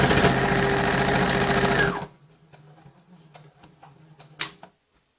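A sewing machine stitches fabric for a reversible basket in a fast, even, loud whir for about two seconds, then stops, leaving faint clicks and handling noises in a quiet room.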